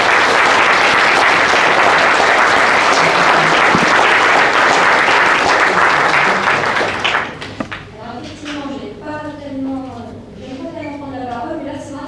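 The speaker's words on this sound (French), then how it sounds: "Il faut l'applaudir." Loud, dense audience applause at a mayor's New Year wishes ceremony, sustained for about seven seconds before fading out as a speaker begins talking.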